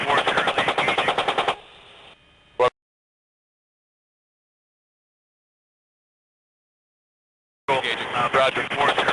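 Machine gun fire from an aircraft engaging ground targets, a sustained rapid burst of loud shots, then a short tail and sudden cutoff, silence, and another dense burst near the end.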